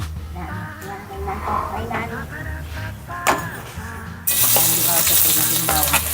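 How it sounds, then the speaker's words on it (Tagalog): Garlic frying in a small amount of cooking oil in a home kitchen, a steady crackling sizzle that swells louder toward the end, running under conversational talk and clattering utensils. "I-brown mo muna yung bawang ha."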